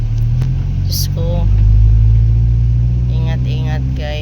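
Car engines rumble low and steady in congested road traffic during heavy rain, close by, swelling slightly midway, with brief voices talking over the drone.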